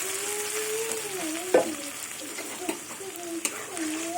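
A paste of pea peels, garlic, nigella seeds and green chili sizzles in hot oil, steady close frying crackle with a few sharp spits and stirring knocks, while a faint voice-like tone runs underneath.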